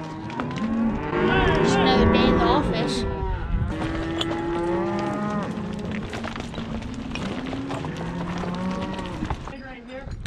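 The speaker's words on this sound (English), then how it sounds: "These cows here are getting ready to head up on the mountain for summer range." Cattle moo repeatedly and loudly, close by, as a herd is gathered for a drive up to mountain summer range; long overlapping bellows carry through the whole stretch over steady outdoor background noise.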